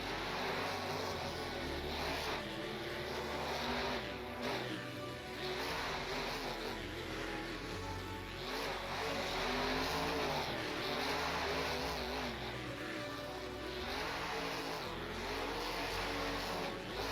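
Monster trucks racing at a Monster Jam (MJRT) International Series event in Panama City, Panama, with loud continuous engine roar, revving and surging throughout, heard at a distance over crowd-filled arena ambience.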